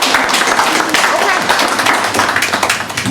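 Wedding guests clap at a ceremony, a dense, steady patter of many hands filling the space without pause.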